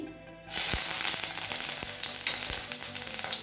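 Oil sizzles and crackles loudly in a wok as finely chopped ginger drops in, with a steady frying hiss and occasional sharper pops.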